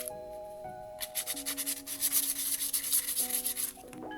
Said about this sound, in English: Just get in there and like scuff spots up and shit. Just get in there, scuff it all up.